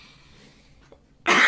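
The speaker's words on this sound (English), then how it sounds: "probably you're gonna hear me sneezing and coughing." A single loud, close cough bursts out abruptly at the end after near silence.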